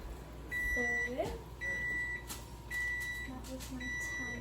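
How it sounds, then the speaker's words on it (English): A kitchen timer in a home baking session beeps in a repeated pattern of four evenly spaced electronic tones, with a person's voice faintly underneath. "That was my timer."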